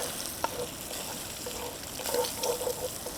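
Bacon sizzles steadily in a Dutch oven, a soft continuous crackle with a few brighter pops and stirring scrapes rising toward the end, fairly quiet and with no voices.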